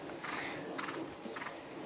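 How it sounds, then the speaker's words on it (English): Horse hooves on a show-jumping course, a few soft thuds and clops at mid distance, fairly faint against open outdoor ambience with no talk. "Nice horse, Emma."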